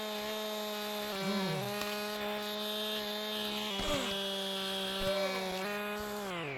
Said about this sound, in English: So we're going to test out the chainsaw now.